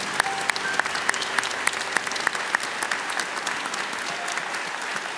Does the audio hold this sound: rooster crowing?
no